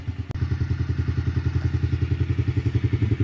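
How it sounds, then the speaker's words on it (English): A Yamaha TTR-50 small dirt bike engine, warmed up after a top-end rebuild, idles with a rapid regular putter and pulses up in a few quick revs, close and loud, with no one talking. "Bike's been idling for a few minutes now, so you'll see it revs up a lot better."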